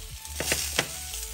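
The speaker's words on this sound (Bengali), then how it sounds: "তো আমি এখানে তোমাদের ডিম ভাজা করে দেখাবো" Eggs fry in a pan with a steady, close sizzle and a few sharper crackles and spatters running through the short stretch, with no talking.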